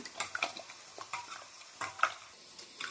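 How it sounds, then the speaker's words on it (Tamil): Onions with ginger garlic paste frying in a pan, stirred with a utensil in quick irregular scrapes and taps over a soft, close sizzle, with no talking. "நல்லா வெங்காயம் வதங்கிட்டுருக்கு. இப்போ இது கூடவே இஞ்சி பூண்டு பேஸ்ட் போட்டுக்கிறேன்."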